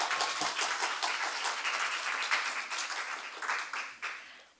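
Congregation applause at a Sunday church service, a dense wash of many hands clapping that fills the room evenly and steadily, tapering slightly toward the end, with no speech over it.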